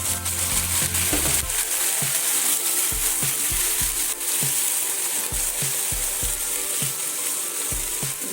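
Tomatoes with spice paste fry in a pan with a dense, steady sizzle, and a utensil stirring and scraping in a regular rhythm through the mix for kabuli chana curry.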